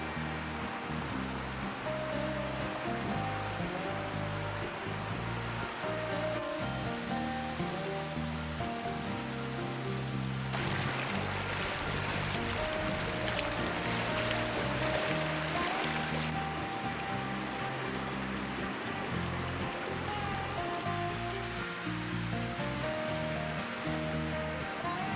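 A river below a trail rushes steadily on a winter day, a constant broad roar of flowing water with no break, loud and close, growing briefly harsher and denser partway through.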